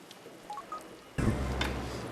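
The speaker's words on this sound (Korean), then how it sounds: "제가 그럼 집사님한테 전화해볼게요." A few short, clear telephone keypad tones are dialed on a phone in quiet surroundings, followed by a louder burst of broadband noise.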